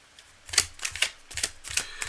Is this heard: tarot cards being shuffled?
yes